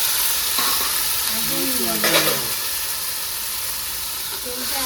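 Two dried red chillies and black cumin seeds hitting very hot oil, a dense loud hissing sizzle throughout, with a brief faint voice in the middle.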